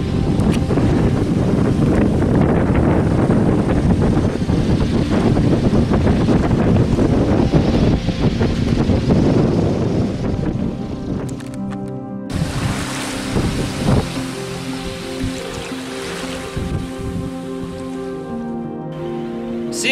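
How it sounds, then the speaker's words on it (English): A sailboat runs under sail in the Caribbean between St. Vincent and St. Lucia, with loud wind buffeting and rushing waves filling the first half, then calmer water swishing and hull creaks as the gusts ease. "We're going to pull the furling line and open the Jenny and be under sail."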